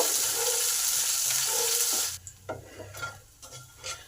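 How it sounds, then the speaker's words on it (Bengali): Chopped garlic frying in mustard oil with black cumin and chilli, a loud dense sizzle with stirring scrapes for about two seconds, then dropping to quieter sporadic pan sounds and clinks. "রসুনটাকে একটু ভালো করে ভেজে নেব।"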